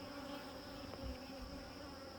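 Honey bees swarm around an opened hive being tended, a steady dense buzz filling the background throughout, with a brief thump of handling partway through and no voices.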